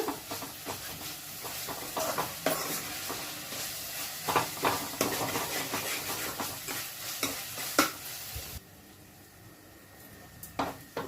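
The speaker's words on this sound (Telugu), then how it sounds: "అల్లం పేస్ట్ కూడా బాగా వేగిందండి" Ginger paste frying in a pan for a spicy prawn fry, a continuous close sizzle broken by frequent scraping and clacking strokes of a spoon stirring it, easing slightly near the end.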